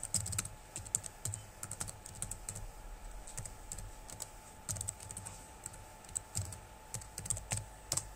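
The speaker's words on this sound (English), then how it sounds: "Let me just type it in." A computer keyboard is typed on nearby in quick, irregular bursts of sharp clicks with short pauses between them, alone and fairly faint.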